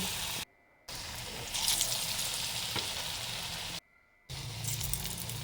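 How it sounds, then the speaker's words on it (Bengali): Radish pakoras deep-frying in hot oil in a wok give a steady, close hiss and crackle of bubbling oil, broken by two brief silent gaps. "এবার পকোড়াগুলো ভেজে নেব"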